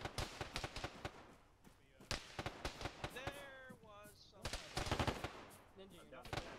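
Gunfire crackles through an Arma ShackTac firefight: sharp, loud shots in irregular bursts and single reports, some close and some farther off, while players talk over the shooting.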